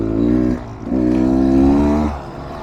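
A Beta Xtrainer motorcycle rides over rough terrain, its nearby engine note rising and falling in two short throttle bursts with a brief lull between them.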